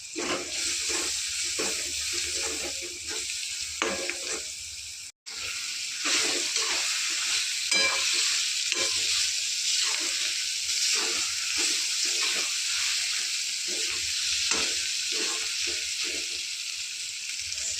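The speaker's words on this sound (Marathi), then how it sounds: "कांदा भाजून घेऊ" Onion fries in a pan with red chili and turmeric for an eggplant bharit, giving a continuous close sizzle with scattered scraping and stirring sounds, briefly cut off once before carrying on.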